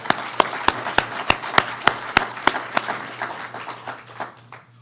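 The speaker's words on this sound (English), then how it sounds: "I got to give them kudos and a round of applause for that" A single person's hand claps ring out sharply and close at a steady, regular beat, at a governor's event on an Atlantic City transition report. The claps soften and thin out toward the end.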